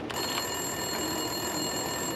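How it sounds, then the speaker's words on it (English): A desk telephone rings in the Max Payne 2 video game, a steady electronic trill holding evenly at moderate loudness without pause, with no talking over it. "Winterson's phone was ringing."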